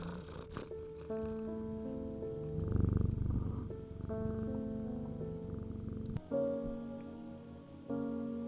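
A cat held close to the chest purrs steadily and softly for several seconds, with a faint patter like rain and a few chiming tones in the background.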